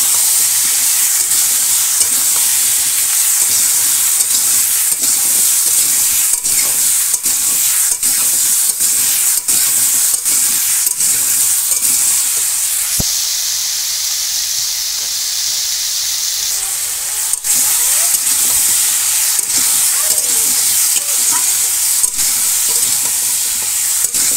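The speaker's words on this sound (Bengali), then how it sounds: "লাউ দিয়ে দিয়েছি, এবার লাউটা দিয়ে কষাবো।" Bottle gourd, potato, cumin and spices sizzle steadily in a village kitchen pan, with constant frying hiss and repeated scraping stirs running throughout at close range.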